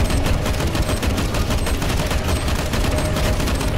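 Dense, continuous gunfire from CS:GO on a zombie-escape map, with rapid overlapping shots forming an unbroken loud barrage throughout, no pauses between bursts.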